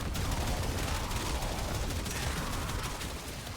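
Cedo weapon in the game Warframe firing as a machine gun, a loud, dense and continuous stream of rapid shots that holds steady throughout with no break.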